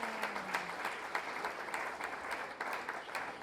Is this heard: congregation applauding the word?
yes